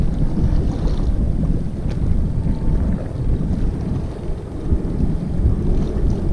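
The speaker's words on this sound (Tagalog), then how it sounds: "Malakas na rin ang hangin." Strong wind buffets an open fishing spot on Manila Bay, a steady broadband roar with gusty microphone rumble that persists throughout, with no talk over it.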